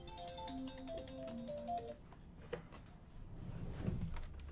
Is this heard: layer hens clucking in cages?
no